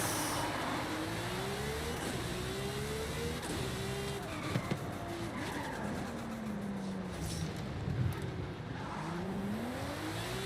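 Simulated car engine in the racing video game Forza revs up and down through repeated rising pitch sweeps as gears change, with an occasional faint tire squeal, steady and moderately loud throughout.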